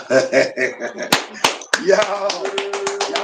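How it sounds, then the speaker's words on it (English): A few sharp hand claps and taps ring out close by, with people talking over and around them. "Remember when the hand claps."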